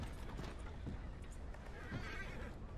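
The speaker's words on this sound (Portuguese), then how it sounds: "deixa eu alimentar esse cavalo" A horse in Red Dead Redemption 2 gives a few faint snorts and breathy whinnies, with scattered hoof clops in the background, all heard quietly and without speech.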